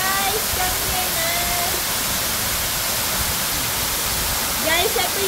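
Pinsal Falls waterfall in Lupao, Nueva Ecija, roaring as a steady, broadband rush of falling water close by, with a few faint voices and a brief louder burst of splashing near the end.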